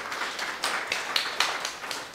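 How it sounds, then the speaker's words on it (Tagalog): A church congregation claps for the Lord, a dense, steady round of applause from many hands in a room, moderately loud and continuous with a few sharper claps standing out. "Palakpak po sa Panginoon"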